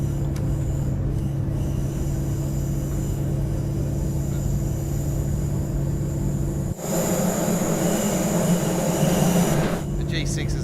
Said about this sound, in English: It's a diesel-powered train as well, folks.